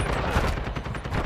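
Rapid gunfire in a video game shooter, a dense burst of shots packed into one short, loud stretch.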